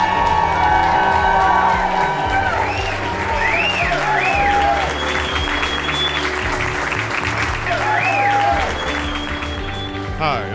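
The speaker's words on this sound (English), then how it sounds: "I'd love a rousing round of applause for our friend Rusty" A rousing round of applause at a Red & Blue Soiree gala, sustained clapping from a large crowd mixed with cheers and whoops, with music and voices running underneath throughout.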